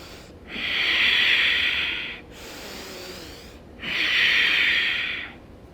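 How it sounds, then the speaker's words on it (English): Two long, steady ujjayi breaths through the nose with a soft, rushing hiss like distant surf, separated by brief pauses; close and fairly loud, with no talking. "don't be scared to hear and feel your breath. It should kind of sound like an ocean"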